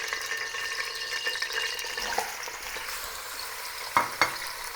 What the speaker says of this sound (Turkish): Artık etlerimizi mühürlemeye başlayabiliriz.